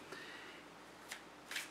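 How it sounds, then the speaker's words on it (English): A deck of oracle cards is shuffled quietly by hand over a faint steady hiss, with two crisp riffling snaps standing out near the end. "I'm going to continue to keep shuffling."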